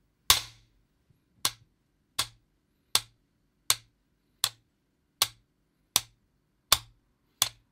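Metronome ticking at a slow, even tempo, ten sharp isolated clicks with silence between them, fairly quiet and close.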